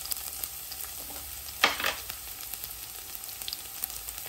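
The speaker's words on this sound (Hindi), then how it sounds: "घी गरम करने के बाद इसमें डालिए क्रश किए हुए लहसुन के कलियां 2 टेबलस्पून।" Crushed garlic dropped into hot melted ghee, a steady sizzling fry close by with a brief louder burst as the garlic hits the fat, then continued crackle.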